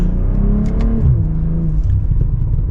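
A 2024 BMW M340i engine revving up under acceleration, a loud, steady rumble with rising pitch sweeps as it pulls through the gears, close and continuous.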